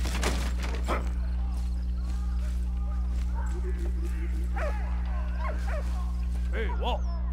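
A dog barks and yips in the Valiant Hearts video game, over a loud, steady low hum.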